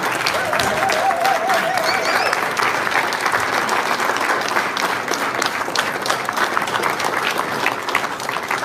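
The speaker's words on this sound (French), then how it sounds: "please put your hands together" Crowd applause welcoming a speaker at a political rally in Ghana, dense continuous clapping from a large gathering, with whistles and cheers cutting through early on, holding steady throughout.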